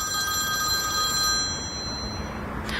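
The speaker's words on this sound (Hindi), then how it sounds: "सेल्समैन का फोन है।" A telephone rings in a steady electronic tone for about two seconds before cutting off, clear and close in a quiet room with no talking.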